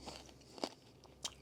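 A person bites into a hard candy cane, giving a couple of sharp, quiet crunches a little over half a second apart against a soft background.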